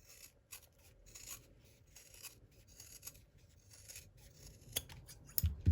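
Soft, repeated snipping and rasping of scissors cutting through fabric, close by and fairly quiet, with a few louder clicks near the end.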